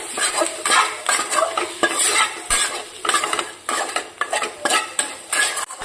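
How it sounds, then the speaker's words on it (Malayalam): An okra stew masala with turmeric and garam masala is sautéed in a pan, with loud, close, rhythmic scraping of a metal spoon against the pan in repeated strokes over a light sizzle. "ഇനി നമുക്കിതൊന്നുകൂടെ വഴറ്റിയെടുക്കാം"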